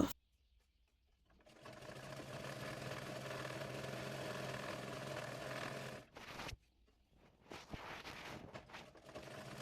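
A sewing machine stitches the side seam of baby girls' half pants in one steady, close run of a few seconds, stops abruptly, then gives a couple of shorter bursts.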